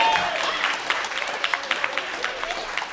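An audience at a symposium claps after a performance, a modest spread of applause with scattered sharp claps and murmuring voices underneath.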